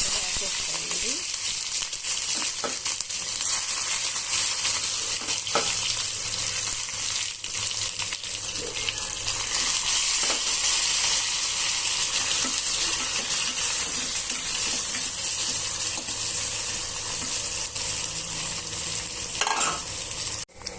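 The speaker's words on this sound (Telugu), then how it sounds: "ఉల్లిపాయ ముక్కలు పచ్చిమిరపకాయ ముక్కలు వేగిపోయాయండి" A continuous hiss of chopped onions and green chillies frying fills the clip, with occasional faint clinks and scrapes of stirring, steady and close.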